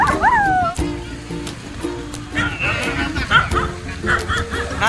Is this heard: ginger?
no